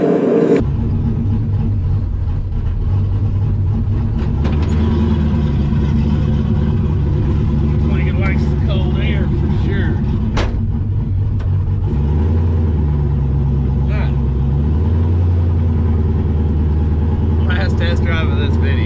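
A turbocharged LS-swapped Oldsmobile Cutlass on a test drive, its engine a loud, steady low rumble throughout with people talking over it inside the car.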